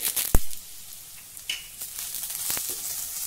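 Dry grated coconut and cumin seeds roast with onion and chillies in a pan, giving a steady close sizzle broken by sharp scrapes and knocks of a spoon stirring.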